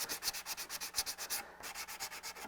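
Hand sanding and blocking on a Ford Bronco body before paint: brisk, even back-and-forth strokes close up, a steady rasping rhythm that carries on alone with no talk.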